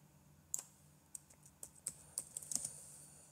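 Keys clack on a computer keyboard in short irregular bursts, crisp close clicks spaced apart then quickening, quiet room with no voices.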